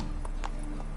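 Roach, a horse in the video game The Witcher 3, gallops with quick rhythmic hoofbeats, several close thuds in a steady running pattern over a constant low background.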